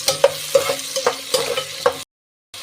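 Cumin and onions frying in hot oil for a halwai-style cauliflower sabzi, with a loud close sizzle and rhythmic spatula scrapes against the pan, about six strokes, ending abruptly in a short silence.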